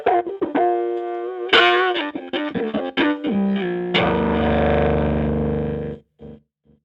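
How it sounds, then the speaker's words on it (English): Gamechanger Audio Motor Pedal synth output with a darker filter setting: a buzzy, distorted tone that shifts through several sustained notes, then holds a thick, dense drone before cutting off. No one speaks. "If I now change the instrument's tone to something darker, you hear that the filter has shifted"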